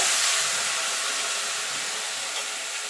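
Water poured into a hot pan of fried rice for pulao sets off a loud, continuous hissing rush of steam that fades slightly over about three seconds, close up and with no voices.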